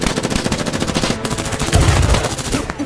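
Loud, close bursts of rapid automatic gunfire crackle through a battle scene in a war drama, a dense rattle of shots that swells slightly toward the end. No voices are heard.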